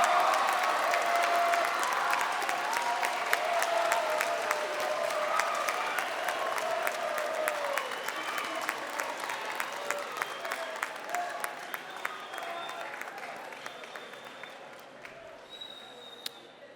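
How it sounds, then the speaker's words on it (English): A large convocation audience at Bowie State University applauds the incoming class of 2029, a dense, sustained wash of clapping that fills the hall and slowly tapers toward the end. "Now look around at one another and applaud as loudly as possible for your class of"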